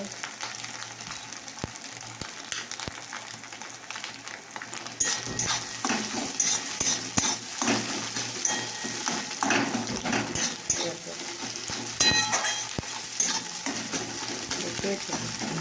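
Steady frying crackle with scattered clinks and stirring scrapes, louder and busier in the second half; no talking.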